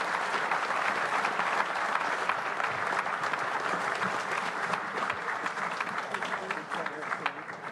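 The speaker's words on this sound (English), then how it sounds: "please give them a huge round of applause" A large conference audience at a security forum gives the panelists sustained, dense applause, an even roar of clapping that carries on for several seconds without letting up.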